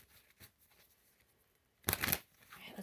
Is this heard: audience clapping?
no